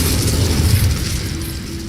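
Spell effects from Hogwarts Legacy gameplay, with a booming, bursting magical blast that swells and then fades into a lingering hiss, loud and without talk.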